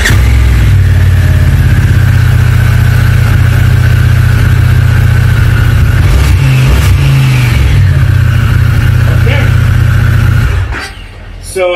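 Harley-Davidson Pan America motorcycle engine running close by, a loud steady throbbing idle with a few blips of revving before it cuts off near the end.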